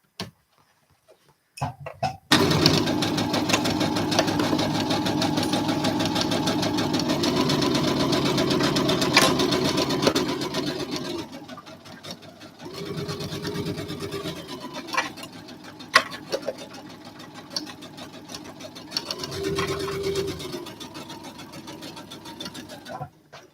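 A sewing machine stitches fabric up close in a steady, rapid whirring run, then stops and restarts in shorter bursts as the piece is turned at corners with the needle left down.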